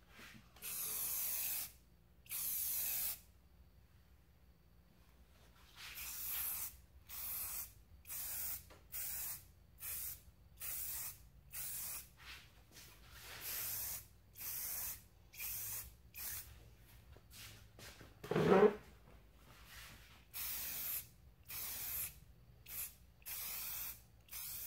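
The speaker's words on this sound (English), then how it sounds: "let's spray some paint." Spray paint can hissing in repeated short bursts of one to two seconds, close and fairly loud, with quiet gaps between them, used on sand-carved glass night lights.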